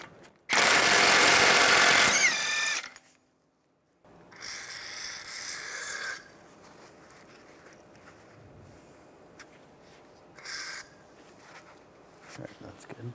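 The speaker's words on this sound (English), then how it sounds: "Take a 36mm 12-point socket, take the nut off." On a 2004-2010 BMW X3, a 36mm 12-point socket drives off the front CV axle nut, giving three loud, harsh mechanical bursts: a long one, a second shorter one, then a brief final burst, with quieter pauses between.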